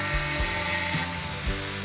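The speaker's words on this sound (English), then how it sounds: "Use an angle grinder to cut the piece along the lines." Angle grinder cutting through a metal angle bar for a homemade wooden speargun part, a steady loud whining drone with slight pitch dips as the disc bites into the steel.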